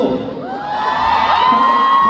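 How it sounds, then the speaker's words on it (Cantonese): A concert crowd at a K-pop fan event in Hong Kong cheers and whoops together, the shouting swelling louder and fuller over a couple of seconds, close and alone without talk. "睇得出嘅朋友請歡呼。"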